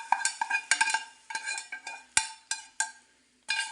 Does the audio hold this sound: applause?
no